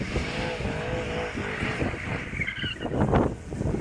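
A car engine roars steadily while tires squeal during a drift, the screech growing louder toward the end.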